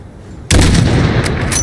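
A long-range sniper rifle shot in Call of Duty Modern Warfare, one sudden loud blast after a quiet moment that rolls out into a sustained rumbling echo.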